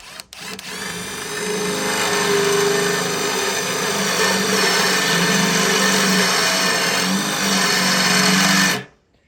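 A power drill whines steadily for several seconds while drilling holes in a chipper shredder part, its pitch wavering slightly as it bites, then cuts off abruptly.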